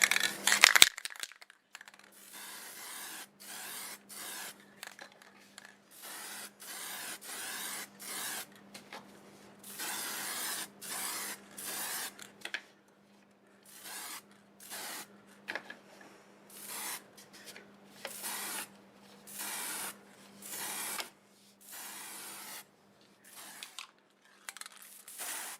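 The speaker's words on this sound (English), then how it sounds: "time for the first coat of sprayed on lacquer" Lacquer sprayed onto a segmented wood turning in repeated bursts, each hissing spray lasting a second or two with short pauses between, steady and close over a faint hum.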